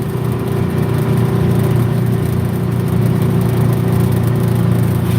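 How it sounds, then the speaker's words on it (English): Truck engine running: a loud, steady, close low-pitched drone that holds evenly from start to finish, with no voices. "Truck sounds great."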